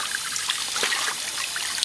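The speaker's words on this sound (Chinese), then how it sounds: "我洗干净了，要把这个水挤掉" Water wrung by hand out of washed pickled cabbage (suancai), prepared for a stir-fry of chicken giblets, drips and trickles in a thin, steady dribble with small splashes, fairly quiet and close, with no talking.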